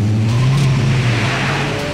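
A Škoda Octavia RS 230 engine pulling hard on a race track, a loud, steady, close-up drone with the pitch gradually climbing as the car accelerates.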